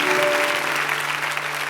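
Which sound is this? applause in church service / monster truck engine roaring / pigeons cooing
applause in church service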